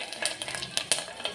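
Garlic cloves sizzle in hot oil for a brief moment, a soft hiss with a few light scraping stirs of a spoon in the pan.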